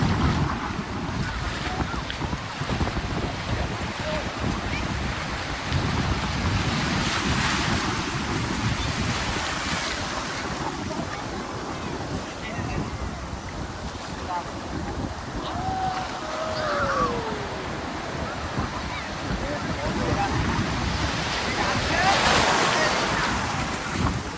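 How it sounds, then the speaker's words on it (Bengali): Big waves roll and crash at Bakkhali sea beach at low tide with a strong current, a loud continuous surf roar with heavy wind buffeting the microphone throughout. "এই প্রথম কিন্তু বকখালিতে এত বড় বড় ঢেউ উপভোগ করছি।"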